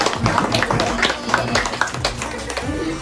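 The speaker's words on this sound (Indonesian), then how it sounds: "Ya, tepuk tangan dong." Clapping from a school audience at an elementary school alumni event, scattered and uneven rather than a full ovation, with a few sharp claps standing out over a noisy hall and background chatter.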